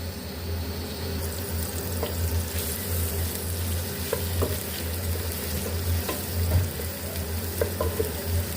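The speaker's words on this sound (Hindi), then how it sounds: "अब प्याज को हम फ्राई कर लेंगे।" Onions sizzle and fry in a pan for siri nihari, a steady crackling hiss with occasional stirring clinks, alone without voices.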